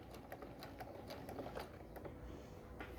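A sewing machine stitching along a marked line on quilt fabric at stitch length two, a quiet, steady run of rapid needle clicks with soft mechanical hum, no voices.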